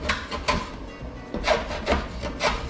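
A hand tool rasps along the edge of a scrap-wood oar, rounding and bevelling it in a run of close, rhythmic scraping strokes with short pauses between them.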